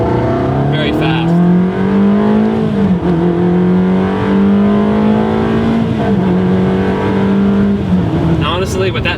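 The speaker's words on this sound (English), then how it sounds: "Tubi exhaust is basically what this car should have sounded like from the factory." Ferrari 360 V8 fitted with a Tubi exhaust revs loudly and steadily up and down, climbing in pitch, dipping, and climbing again over about nine seconds, close and continuous with no talking.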